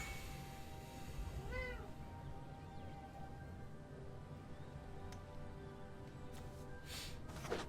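A cat gives one short, rising-and-falling meow in a quiet room. Faint background noise and a few soft clicks and rustles follow, with no voices.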